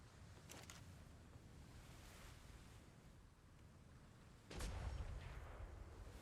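Cannon fire booms in a Royal Navy roleplay video game set at sea: a couple of distant thuds early, then a louder, closer blast near the end, over steady wind and water noise.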